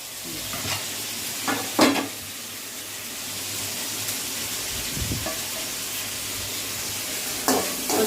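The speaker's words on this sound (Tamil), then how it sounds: "கொஞ்சம் எண்ணெயில் ஃப்ரை ஆகணும்." Potato pieces fry in oil seasoned with turmeric and salt, a steady close sizzle broken by a few short scraping stirs of a spoon in the pan.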